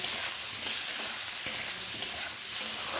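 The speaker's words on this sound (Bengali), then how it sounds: "এটাকে ভালো করে কষিয়ে নেব" Food being sautéed and stirred in a frying pan for a home-cooked dish, a steady broadband sizzle with occasional soft scraping strokes, close and continuous, no voices.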